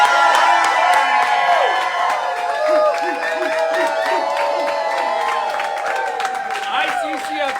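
Lively bar crowd at a deathcare industry gathering (ICCFA), a dense, loud wash of voices with cheers and whoops rising over steady chatter throughout.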